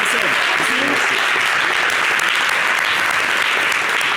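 Studio audience applause on a French TV show, a dense steady clapping that fills the whole stretch with a faint voice underneath.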